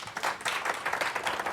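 Brief burst of audience applause at a civil liberties forum for a presidential candidate, a dense patter of many hands clapping at moderate distance, fairly faint.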